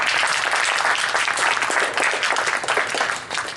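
An audience at a talk on Islam and Muslims applauds, a dense sustained wave of many hands clapping at even loudness, with no voices over it.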